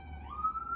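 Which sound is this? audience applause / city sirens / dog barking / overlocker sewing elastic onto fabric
city sirens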